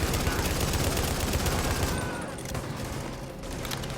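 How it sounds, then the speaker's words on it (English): Dense gunfire in a firefight from the video game The Division, with continuous rapid shots and bursts at a steady loud level, easing slightly partway through without any break. "Oh, that's a bad firefight for you to be in."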